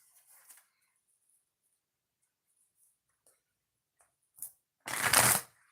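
Tarot cards shuffled close by in a burst near the end, a dense riffling rush after a few faint taps and soft handling sounds across near-silence.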